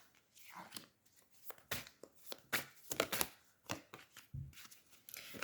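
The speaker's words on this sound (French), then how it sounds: "j'ai envie juste de mélanger un petit peu pour les balances" Oracle cards are shuffled by hand in short bursts of papery riffles and slaps, close and fairly soft, with a quiet French-speaking voice mixed in.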